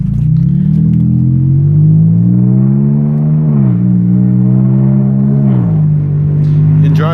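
A 2012 Dodge Charger SXT 3.6L V6 with Magnapacks exhaust and K&N intake drones loudly up close, its deep engine note rising and dipping through light revs.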